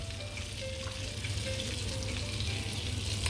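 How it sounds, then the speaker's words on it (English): Onions and a cinnamon stick sizzling gently in olive oil and butter in a pan, a steady, close frying hiss with no voices. "Now the onions have to just sweat a little bit."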